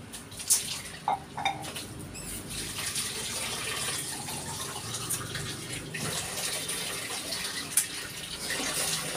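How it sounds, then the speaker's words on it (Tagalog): Tap water runs steadily in a home kitchen while dishes are washed, with a continuous splashing gush broken by a few sharp clinks and knocks close by. "Hugas tayo plato, guys."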